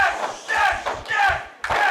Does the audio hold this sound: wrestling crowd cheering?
yes